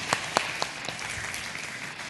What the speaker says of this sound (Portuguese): Uma salva de palmas a essa jovenzinha.